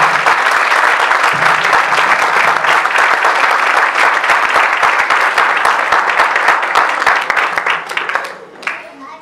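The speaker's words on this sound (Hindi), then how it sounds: "तालियां" Loud, sustained applause from a church congregation at a Sunday service fills the room, dense claps running for about eight seconds before thinning out and fading near the end.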